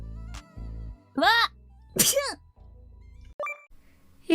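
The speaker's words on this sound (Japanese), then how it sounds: "くしゃみ出そう。" A VTuber gives several loud, close sneezes in a row, with short breathy build-ups between them and a brief vocal sound afterward.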